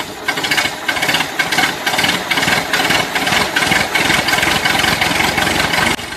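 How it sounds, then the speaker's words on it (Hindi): A tractor engine in a cartoon chugs loudly and steadily with a regular pulsing idle knock, close and continuous for the whole stretch with no talking over it. "फिर ट्रैक्टर वाला ट्रैक्टर चलाने लगता है"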